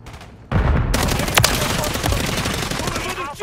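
Rapid automatic gunfire in a Call of Duty MW3 multiplayer match, dense bursts of shots and a sharp blast continuing nearly throughout, with game voice callouts mixed in.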